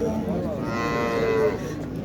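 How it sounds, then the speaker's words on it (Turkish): Cattle lowing at a busy livestock market, with one long, loud moo rising and falling over about a second and a half against a steady background of crowd murmur. "Şurada bir inek de dana var."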